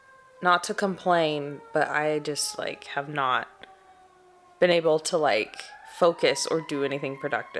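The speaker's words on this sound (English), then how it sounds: "And now there's, weird sirens going on." Wailing sirens rise and hold in the distance while a person talks close by over them, with a storm approaching.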